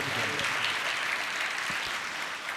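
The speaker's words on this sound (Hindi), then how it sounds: "भरपूर तालियां बजाएंगे" Applause from a church congregation at an Easter Day Mass, continuous and fairly faint, a distant wash of many hands clapping throughout.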